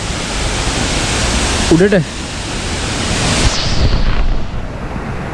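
The first tier of Kadiyanlena waterfall near Galpotta, Nawalapitiya roars as a dense, steady rush close by, while someone speaks briefly over it.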